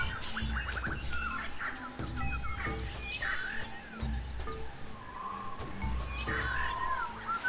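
Jungle ambience from the Tales of Monkey Island video game: scattered bird chirps and calls ring out over a steady noisy background, with low tones and other game sounds mixed in throughout.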